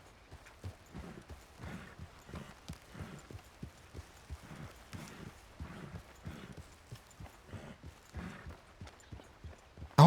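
Horse hooves in a video game, a steady, rhythmic clip-clop of a walking gait repeating evenly throughout, soft and muffled at moderate distance.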